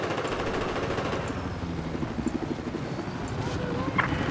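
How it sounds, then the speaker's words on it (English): An enemy helicopter in the Battlefield 4 game drones with a steady rotor chop. Rapid gunfire and battle noise stay layered over it the whole time, and the loudness holds fairly constant. "I spotted an enemy chopper."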